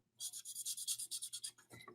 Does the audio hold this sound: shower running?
no